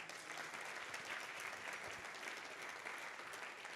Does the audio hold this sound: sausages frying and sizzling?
no